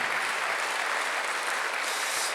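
A church congregation at a Sunday worship service claps together in a dense, steady wash of applause that stays even and loud throughout.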